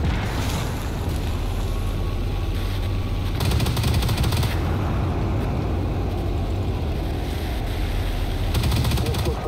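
Gunfire and rumbling engine noise from a T-15 tank battle in a desert mission of a tank video game, a steady dense roar with bursts of shooting, no talk.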